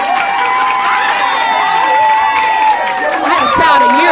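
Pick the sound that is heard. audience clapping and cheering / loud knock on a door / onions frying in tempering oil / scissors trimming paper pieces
audience clapping and cheering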